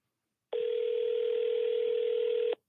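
An outgoing telephone call on a line gives one long, steady electronic tone lasting about two seconds, clean and loud against silence.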